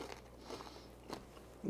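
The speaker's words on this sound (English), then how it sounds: "You're hearing me chewing, but it is so delicious." Homemade tortilla chips loaded with salsa and smashed guacamole are chewed up close, giving a few quiet crunches and bites over a soft background, ending in a louder crunch.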